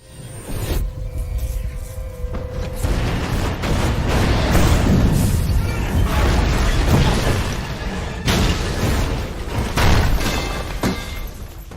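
A large explosion ripping through an office building in a movie action scene, with heavy, sustained rumbling booms and crashing debris filling the soundtrack for about twelve seconds at loud, steady intensity.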